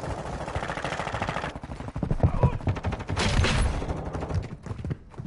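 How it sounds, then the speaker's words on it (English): Rapid automatic gunfire in Call of Duty DMZ, sustained bursts of close, punchy shots in quick rhythm that pause briefly midway and then resume. "Why am I shooting at you?"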